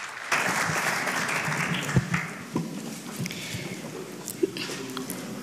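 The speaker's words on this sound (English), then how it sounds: "Can we have a big round of applause for our ambassador, please?" An audience applauds for the ambassador at a press conference on Arabian racehorses in Madrid, a fairly quiet, steady patter of clapping with a few sharper claps standing out, and faint voices underneath.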